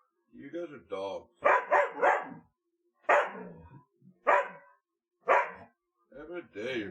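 Dogs barking close by in a quick run of loud, sharp barks, several clustered in bursts with short pauses between, a couple of higher yips mixed in.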